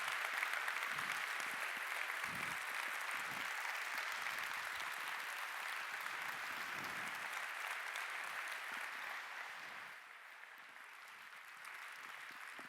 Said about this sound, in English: Another round of applause for Kelsey Hightower.